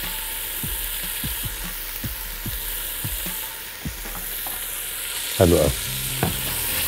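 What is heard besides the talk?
stirring chicken fajita frying in a pan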